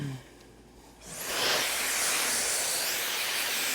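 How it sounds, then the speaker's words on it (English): Sea salt spray mists onto hair as a light pre-style before blow drying at a barber's chair: a steady, close hiss that starts abruptly and holds evenly for nearly three seconds. "I'll spray a light amount of sea salt, kind of like as a pre-style before blow drying"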